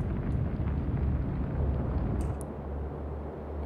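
Warship guns firing in the naval game Atlantic Fleet make a deep, rumbling boom that rolls on and slowly fades, heavy and low, with no voices over it.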